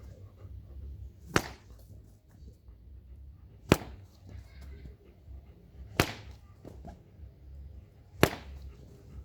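Four sharp whip cracks from an upper-hand sweep land about two seconds apart. Each snaps loud and close over a low, rumbling outdoor background.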